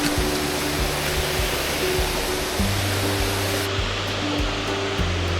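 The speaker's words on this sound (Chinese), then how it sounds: "现在已经可以看到瀑布就在后面了，那个丹霞瀑布非常的高，大概有80米那么高。" A tall Danxia waterfall, roughly 80 metres high, in a hidden valley on the Sichuan–Guizhou border, pours as a steady, loud broadband roar of falling water, heard close and alone without any voices.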